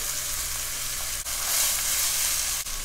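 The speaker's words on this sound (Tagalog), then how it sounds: "Pagluto na yung ating bawang, sibuyas, kamatis, ilalagay ko na po itong ating sayote." Chayote slices hitting a pan of sautéing garlic, onion and tomato, heard as a bright, steady sizzle with a couple of quick clicks of stirring, and no voices.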